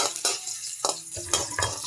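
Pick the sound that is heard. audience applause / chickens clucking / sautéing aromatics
sautéing aromatics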